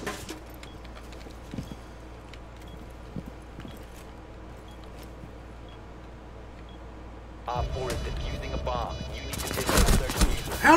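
Rainbow Six Siege gunfire, with rapid shots and bursts scattered through the first part, a few sharp cracks standing out, then a louder, denser stretch of noisy action near the end. A voice talks over it.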